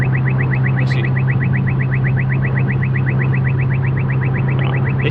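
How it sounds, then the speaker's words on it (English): A vehicle horn beeps in a rapid, steady pulsing pattern from inside or near a moving car, heard over a constant low engine and road drone. "He's beeping like crazy."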